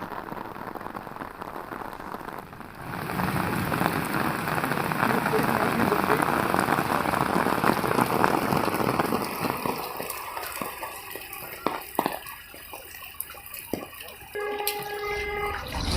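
Heavy rain pours down in Bidar city as a dense, continuous hiss for most of the stretch. It later thins into scattered close drips and patters on surfaces.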